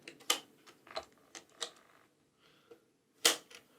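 Brightly coloured arcade buttons snap into the top panel of a Picade console, a run of sharp close plastic clicks and clacks spaced irregularly over a quiet background, no talk.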